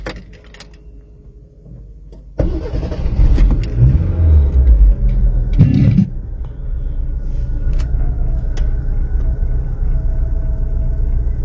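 A Hyundai Millenium car engine with a misfire problem cranks and catches after its spark plugs are cleaned, then revs loudly and settles into a steady, close, rumbling run with a faint jingle of keys.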